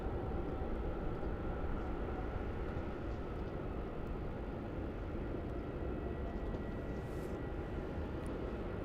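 A jet taxiing off runway 16 onto taxiway Juliet at Melbourne Airport produces a steady, distant low engine rumble and roar that holds evenly throughout, with no talking.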